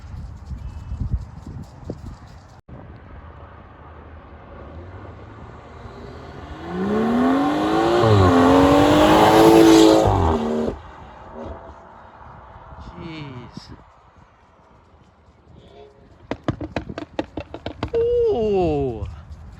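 A Liberty Walk Nissan GTR accelerates hard, its exhaust swelling into a loud rising roar that peaks and then cuts off sharply. Quieter engine noise and brief sharp crackles follow later, and voices and cheering are heard around it.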